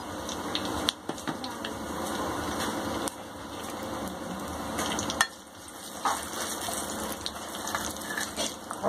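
Cumin, cloves, cardamom and bay leaf sizzle in hot oil as a tadka for spinach palak dal, a steady close frying hiss with a few sharp stirring knocks and scrapes throughout.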